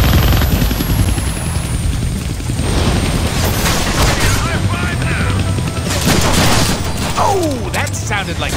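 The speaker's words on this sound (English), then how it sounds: "I can't kill that chopper with my guns" A helicopter in the Deadpool video game throbs loudly and continuously alongside bursts of gunfire and mechanical clatter, forming a dense, busy in-game soundscape.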